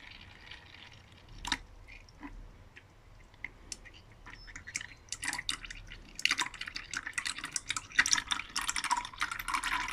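Fluid drains from the transfer box of a Range Rover during a service, dripping and trickling into a container, with the splashing growing busier and louder over time, heard close up with no talk.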